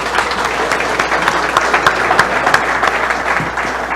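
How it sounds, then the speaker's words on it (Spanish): A seated audience at a climate change adaptation panel applauds the panelists, a full, steady patter of many hands clapping at close range, loud and even for the whole stretch. "Un aplauso para los panelistas"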